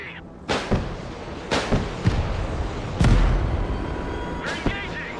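Short-range anti-aircraft guns firing in the Broken Arrow war game, a handful of sharp booming shots spaced irregularly over a low rumbling battle background.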